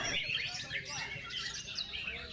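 An agitated white-rumped shama (murai batu) gives rapid, sharp chirps and whistled calls, fairly close and moderately loud, repeating in quick bursts over a soft background.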